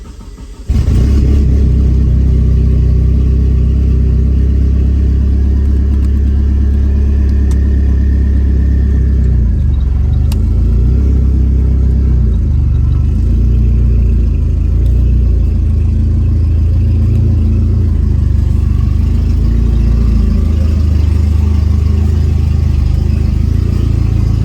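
A 1997 Eclipse GSX with a boost leak pulls slowly into a garage, its engine a loud, close, continuous low rumble that wavers slightly as the throttle changes, with no one talking.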